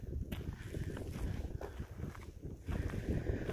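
Wind gusts buffet a camera microphone on a Pacific Crest Trail hike through an open meadow, a steady low rumbling roar with shifting surges and no talk.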